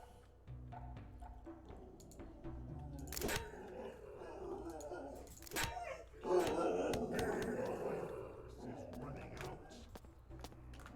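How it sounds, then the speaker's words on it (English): A pet dog barks and whimpers in the background of a room while a person talks over it, the short barks scattered and fairly faint, with some footsteps and small knocks. "Mine that's barking in the background?"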